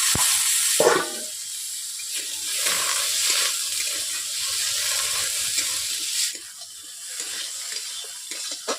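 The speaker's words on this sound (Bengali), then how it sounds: "এগুলোকে আমি কড়াইতে ভেজে নিচ্ছি" Parboiled potatoes sizzle and hiss in hot oil in a wok, a steady bright crackle with a brief louder stir near the start.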